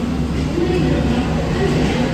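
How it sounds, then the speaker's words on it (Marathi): Low, steady rumble of the Kanyakumari Express rolling in to platform 11, a continuous rail roar with faint clatter filling the whole stretch. "कन्या एक्सप्रेस प्लॅटफॉर्म क्रमांक अकरावर आलेली आहे"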